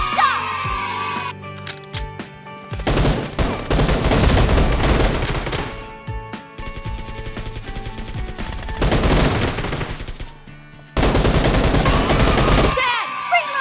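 Gunfire in the BGMI video game, bursts of rapid close shots in dense clusters separated by short pauses, loud and sharp, with faint game sounds between volleys.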